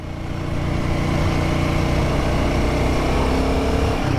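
Royal Enfield Guerrilla 450 motorcycle with its Sherpa engine pulling hard in fourth gear, a steady, loud, continuous engine drone with rising intensity, heard close and alone without talk.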